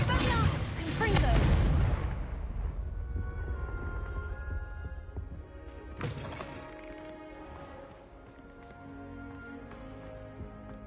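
Spell-casting effects in Hogwarts Legacy: a loud burst of crackling, blasting magic at the start fades into a sustained shimmer of ringing tones. A second sharp impact lands about six seconds in, then layered sparkling tones trail off.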